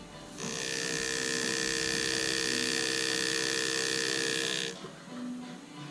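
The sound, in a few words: pneumatic engraving tool cutting metal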